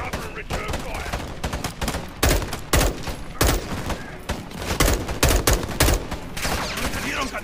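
Video game gunfire from Call of Duty Modern Warfare 2 crackles in dense, loud bursts of automatic and single shots throughout the battle, with voices calling out amid the firing.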